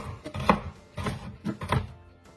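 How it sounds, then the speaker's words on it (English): Knife mincing carrot matchsticks on a cutting board, four or five separate chopping strikes at an uneven rhythm, close and clear with no talk. "And then to mince those up, we're just going to go in"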